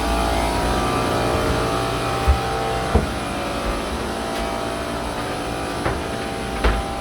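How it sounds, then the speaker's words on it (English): Running engines fill a 118-foot Millennium super yacht's engine room with a loud, steady mechanical drone and hum, broken by a few faint clanks. "This is a really nice engine room, the way you can get around."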